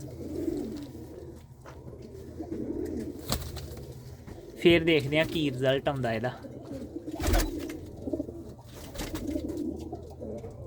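Pigeons in a Punjabi breeding loft, one hen sitting on eggs, coo steadily in the background as someone talks over them, with a brief louder burst of sound near the middle.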